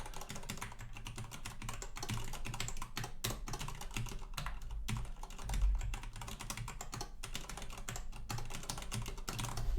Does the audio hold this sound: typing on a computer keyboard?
yes